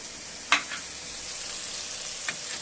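Shrimp frying in hot oil, giving a steady bright hiss of sizzling with a couple of brief clicks or stirs, close up, with no voices.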